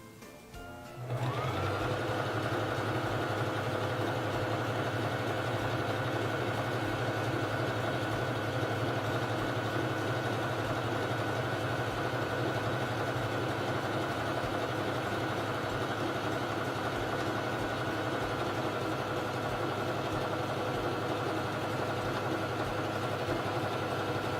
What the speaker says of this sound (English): it's time to sew the feather stitch